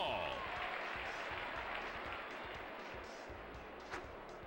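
Crowd cheering and applause in the N64 baseball game MLB Featuring Ken Griffey Jr., a steady broadband roar of a stadium crowd filling the whole stretch with a brief louder shout near the end.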